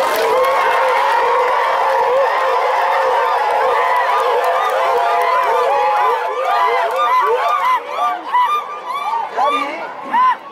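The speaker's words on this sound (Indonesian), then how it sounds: "Boleh tepuk tangan" A meeting audience bursts into applause and cheering, a loud sustained crowd din with shouts and whoops over clapping, thinning toward the end as voices carry on over it.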